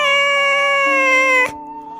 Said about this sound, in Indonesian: Mungkin kalian sering dengar suara kucing ini.